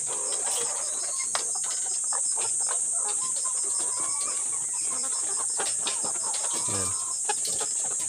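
Layer hens in a farm pen clucking and murmuring at close range. A steady bird chorus runs throughout, with one louder squawk near the end and a brief spoken word over it.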